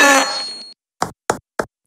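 Hammer knocking in a toy cartoon while a spaceship is being built: three sharp, evenly spaced knocks sound alone after a brief fading musical or voiced tone.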